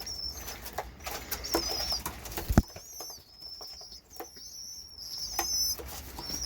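Pigeons crowd around in a loft, with soft coos, wing flaps and shuffling close by, plus a sharp knock partway through.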